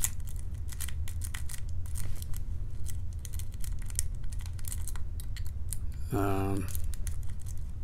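Small metallic pin clicks from picking a lock, faint and scattered under a steady background hiss, with a short rapid burst of ticks near the end.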